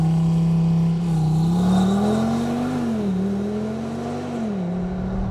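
An Audi RS3 drives on the road with a loud, steady engine drone that rises and dips as it accelerates and eases off, continuous and close, with no talk over it.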